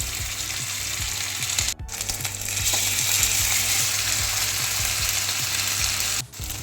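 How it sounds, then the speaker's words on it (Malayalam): A chicken burger patty fries in oil in a pan, making a loud continuous sizzle nearby that briefly cuts out twice. "അപ്പോൾ നമ്മൾ പാൻ വെച്ചിട്ട് കുറച്ച് ഓയിൽ വെച്ചിട്ട് ഇങ്ങനെ ഇട്ട് കൊടുക്കുക."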